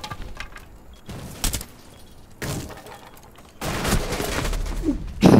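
Gunfire and explosions from the video game Rainbow Six Siege crackle in scattered bursts, with sharp cracks and heavier booming hits getting louder toward the end.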